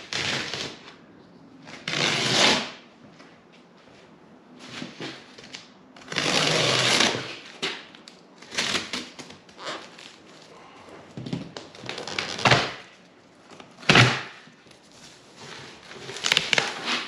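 A cardboard shipping box holding a Genright roll cage for a 97-06 Jeep Wrangler TJ is opened, with bursts of tape tearing and cardboard scraping and rustling up close, separated by quieter pauses.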